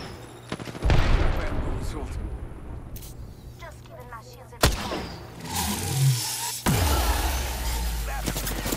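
Gunfire in the Apex Legends game, with bursts of shots and sharp booms that come and go over several seconds, mixed with game noise and a voice talking.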